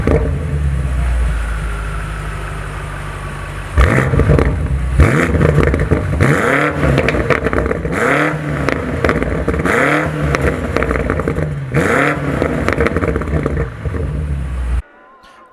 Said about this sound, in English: let's check out some revs real quick.